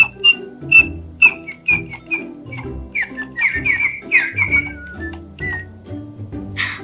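Little Live Pets toy birds chirp back and forth in a rapid series of bright whistled tweets and clucking notes, loud and close, several calls overlapping.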